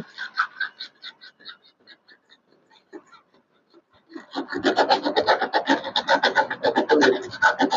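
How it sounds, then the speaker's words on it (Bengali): A refrigerator pipe is scraped clean before brazing, giving rhythmic rasping strokes that start faint and sparse, then turn loud and rapid, close to the listener. "এটা একটু ঘষে পরিষ্কার করতে হবে।"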